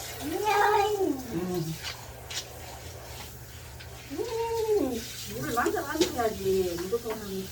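A cat being bathed with water yowls in several long, drawn-out meows over a steady hiss of running water, close by.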